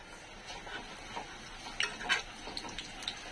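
Onions frying in a pan for a village-style biryani: soft, quiet sizzling with scattered light scrapes and stirring clicks, steady and close, no talking.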